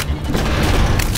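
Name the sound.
enemy gunfire in the video game Call of Duty: Modern Warfare 3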